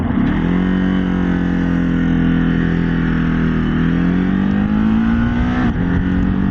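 A Ducati Desert X motorcycle engine drones loudly and close, its pitch held high and climbing slightly as it revs, with a brief dip near the end.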